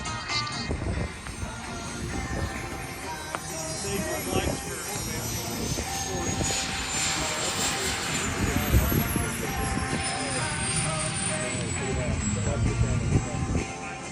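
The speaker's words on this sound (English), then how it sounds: "ME-262 twin turbine German jet." A ME-262 twin-turbine German jet, apparently a model, flies past at an air show, its turbine whine rising and falling over roughly fourteen seconds. It plays under loud background music and crowd noise, with a sweeping high tone across the middle.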